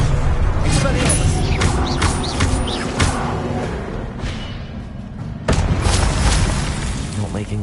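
Spell combat in Hogwarts Legacy, with an Expelliarmus cast among loud, dense magical booms and bursting impacts layered over constant game noise, a sharp new blast near the end, and a voice mixed in.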